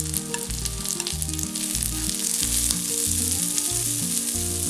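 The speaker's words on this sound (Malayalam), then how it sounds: "ഇനി ഇതൊക്കെ ഫ്രൈ ചെയ്യുമ്പോഴത്തേക്ക് സ്റ്റൗവിൻ്റെ ഫ്ലെയിം നല്ല ഹൈ ആയിരിക്കണം" Chopped onions and green chillies fry on a high flame for Indo-Chinese chilli soya chunks, giving a loud, dense, continuous sizzle under a steady rhythmic backing.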